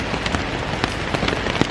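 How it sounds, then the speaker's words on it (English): Heavy rain pouring down outside a tent in the woods at a lakeshore, a dense hiss of drops with sharper irregular pattering hits on the surface, steady and close. "we want to go cook dinner, but it's just pouring out yet"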